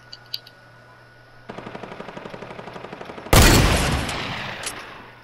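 Gunfire in the Fortnite video game: a steady run of rapid automatic shots, loud and close, then a heavy burst of blasting gunfire that dies away slowly, with no talking.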